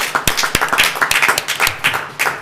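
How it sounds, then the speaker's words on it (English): Audience applause at a village board meeting: a burst of uneven, overlapping hand claps, fairly loud and close, with no talking. "You guys all worked hard and deserve a huge round of applause."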